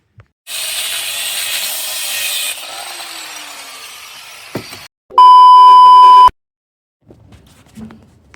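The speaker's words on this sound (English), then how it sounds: "we just stuck the angle drill on it, and to be quite honest, it drilled straight through" An angle drill bores out a snapped bolt on a SEAT driveshaft with a loud, grinding whine for a few seconds. The whine eases to a lighter buzz, then a sharp electronic beep sounds for about a second, followed by faint clicks.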